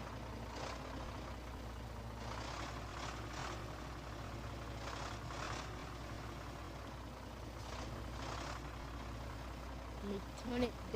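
A truck engine idles in a truck simulator video game, a steady low rumble running continuously with brief hissing bursts layered over it and a few clunks near the end.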